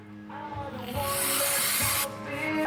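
Aerosol brake cleaner sprays onto Wilwood six-piston brake parts on a Camaro, a loud close hiss that swells, cuts off briefly, then resumes.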